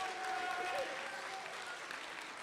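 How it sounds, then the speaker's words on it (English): A film festival audience gives a short round of applause for Alex, steady mid-level clapping with faint crowd murmur, tapering off over a couple of seconds. "Give Alex some applause."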